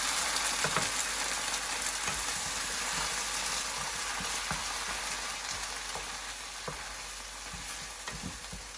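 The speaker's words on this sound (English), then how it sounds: "Now I'm going to add the tomato paste to it." Tomato paste sizzles steadily among browned onions in a pan for a Rajma curry, a continuous close frying hiss with occasional soft stirring taps and no talking.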